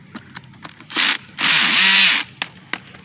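A power drill tightens a screw on a Rainbird DVF irrigation valve in two loud, close bursts, a short whir followed by a longer one that slows as the screw seats. Light clicks and handling noises come before and after.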